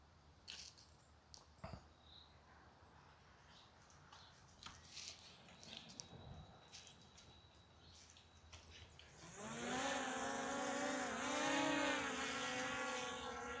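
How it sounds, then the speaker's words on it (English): DJI Mini 5 Pro drone lifts off over open farmland: after quiet outdoor rustling, a loud buzzing propeller whine starts abruptly and holds steady with a slightly wavering pitch, close by. "Okay, so the drone's heading up into the air now."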